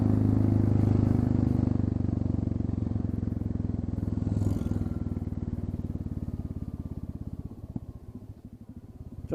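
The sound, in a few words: Royal Enfield Classic 350 motorcycle engine without exhaust tip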